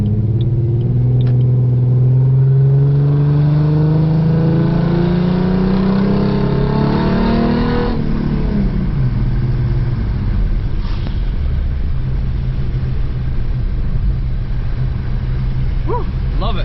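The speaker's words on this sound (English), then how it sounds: "Oh, I absolutely love the exhaust on this car." A 4.0 V6 Mustang with dual Cherry Bomb mufflers revs on a rainy day, its exhaust rising in a long, loud, rumbling climb before dropping back to a throaty idle burble.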